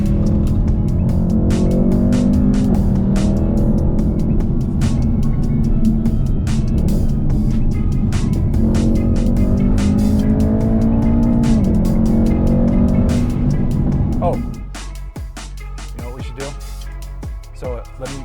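A 2020 Mercedes-AMG E63 S Wagon being driven, its engine loud and close with a rising and falling tone as it shifts through gears, then settling to a quieter interior hum near the end.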